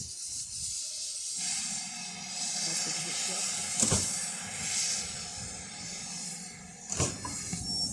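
A steam locomotive hisses steadily while coupling up to carriages, releasing steam in a sustained whoosh, with a couple of sharp metallic clanks along the way.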